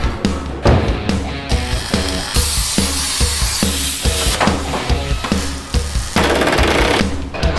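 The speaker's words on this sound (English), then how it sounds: "I love welding rusty metal." Welding on rusty metal produces a loud crackling, sputtering buzz in uneven bursts, broken by short pauses and harsh spitting bursts.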